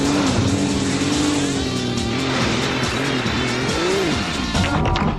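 Tires skid and squeal in the Sega GT racing video game while a car engine drones and shifts pitch, loud and continuous throughout.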